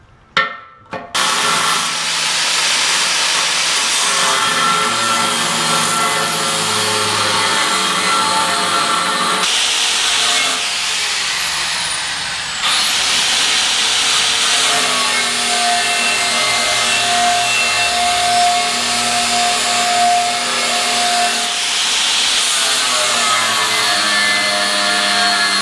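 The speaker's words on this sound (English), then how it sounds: "this is a 13 amp 7-inch grinder. Man, it makes the job so much faster." A 13 amp 7-inch angle grinder grinds a steel backhoe bucket in a loud, steady high-pitched whine that runs almost unbroken for about 25 seconds after a short start-up, with slight shifts in pitch as pressure changes.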